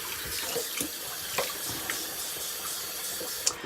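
Tap water runs steadily into a sink during a face rinse after a with-the-grain shaving pass, a continuous close splashing hiss with a few brief knocks and splashes, no talking.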